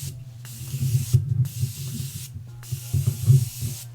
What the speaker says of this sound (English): now I'm going to be using the Morphine Setting Mist to prep for highlight